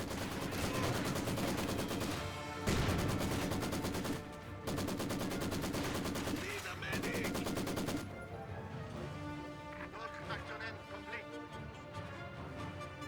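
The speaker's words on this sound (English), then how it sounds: "Rifle grenade fired." Rifle grenade and heavy gunfire from the video game Company of Heroes 2, with dense bursts of shots and blasts filling the clip, louder in the first eight seconds before easing into quieter battle noise.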